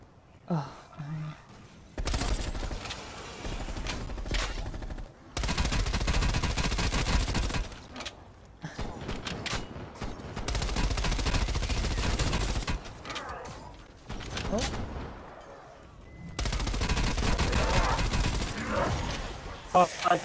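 Call of Duty Cold War Outbreak zombies gameplay with gunfire at a giant cannon boss. Loud sustained bursts of automatic fire repeat in long stretches, separated by gaps where players talk and gasp.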